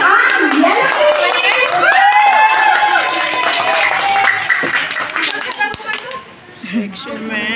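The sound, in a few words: crowd clapping for the Yellow Team at sports fest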